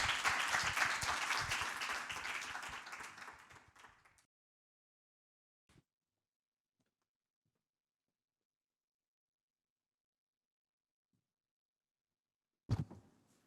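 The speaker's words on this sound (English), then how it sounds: "Round of applause, please." Audience applause for a congresswoman at a women-in-leadership summit, a dense round of clapping that fades out after about four seconds, followed by silence and a brief thump near the end.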